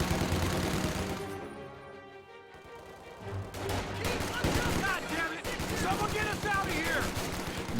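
Machine-gun fire in a tank battle video game, with rapid bursts and scattered shots after a quieter gap, under occasional voices.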